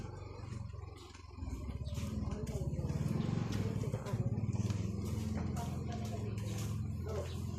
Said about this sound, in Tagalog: Oo, may motor.